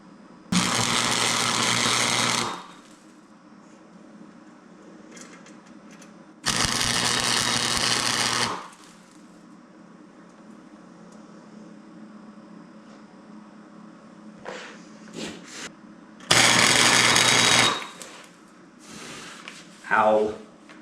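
Welding on a tubular suspension kit for a fourth-generation Camaro, three loud bursts of crackling arc noise a few seconds long each, separated by quiet stretches with faint handling clatter.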